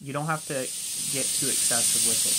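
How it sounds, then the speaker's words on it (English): A gas torch heating a stack of six steel rods on a blacksmith's workbench gives a steady high hiss in the background while someone talks over it. "I'm using the torch in the background to take and heat up our rods"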